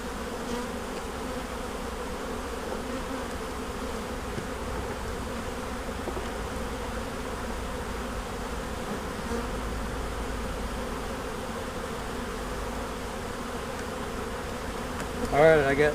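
Honey bees swarm around an opened beehive during a spring brood inspection, making a dense, continuous buzz that fills the whole stretch at close range, with faint handling noises and no talk.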